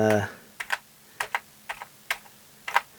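A voice fades out at the start, then a ZX Spectrum home computer keyboard with a faulty, very sticky enter key is pressed in crisp paired clicks, five or six separate double taps spaced evenly and close by.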